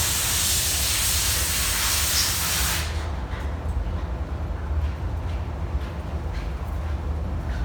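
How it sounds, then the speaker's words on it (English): Compressed air nozzle blowing off a model surface coated with separator, a loud steady hiss that drops sharply about three seconds in and then continues as a lower, softer rush. "I'm just going to step off camera and blow that off with a little bit of the air nozzle"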